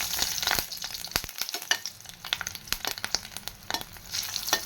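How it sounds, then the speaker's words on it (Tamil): Green chillies and Kashmiri chillies fry in hot oil on a medium flame, giving a crackling sizzle broken by sharp scrapes and taps of a stirring spoon, close and lively, with no talking. "இதையும் நல்லா ஃப்ரை பண்ணிக்கலாம்"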